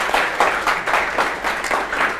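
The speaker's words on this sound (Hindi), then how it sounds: "एक बार जोरदार ताली आप सब लोगों के लिए" A lecture audience claps in a burst of quick, irregular applause that holds steady and fairly loud for a couple of seconds with no speech over it.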